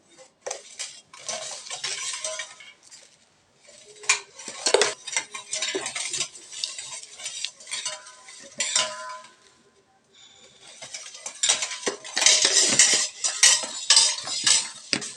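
A spoon clinks and scrapes around a glass while Tang orange drink with sugar is stirred, with repeated close metallic taps in bursts, a pause near the middle, then faster, louder stirring toward the end.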